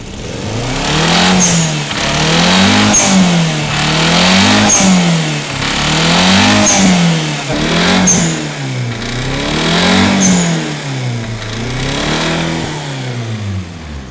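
A Suzuki Karimun Wagon R, an imported Japanese turbo model, revs repeatedly close by, its engine note climbing and falling in a steady series of rises with short pauses, loud and with no voices over it.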